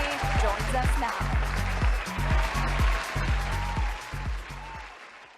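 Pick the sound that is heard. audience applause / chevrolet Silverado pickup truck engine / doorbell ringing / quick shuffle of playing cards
audience applause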